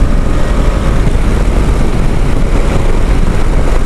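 A steady, loud engine rumble from a KTM Adventure 250 motorcycle on the move, blended with broadband wind roar and without any speech.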